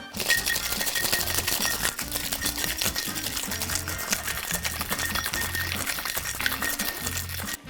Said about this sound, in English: Be sure to shake very vigorously, because remember, we got larger cut ice, so we really need to break it up in the tin